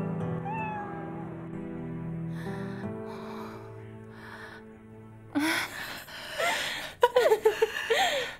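Cats meowing close by, several short high meows spread across the stretch, with a louder burst of cries and snorts near the end over soft background music.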